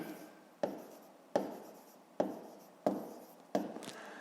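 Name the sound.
writing a math solution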